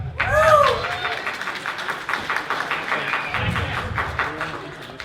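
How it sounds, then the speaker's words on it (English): Fan panel audience at an anime convention breaks into sustained applause and cheering, with a voice heard near the start before the crowd noise fills the room steadily. "Everyone, round of applause for Sam."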